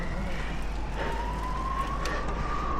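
Ambulance sirens pass along a road during a hot cycling race: a rising wail comes from middle distance, and steady wind or road noise runs underneath.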